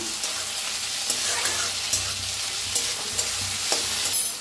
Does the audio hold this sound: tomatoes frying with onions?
yes